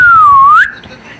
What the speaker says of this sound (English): As the guard blew his whistle,